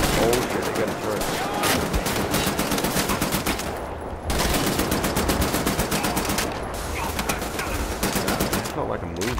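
Sustained heavy machine gun turret fire in Wolfenstein: The New Order, loud and dense rapid bursts nearly continuous for the whole stretch, with two brief drops in intensity around the middle and near the end.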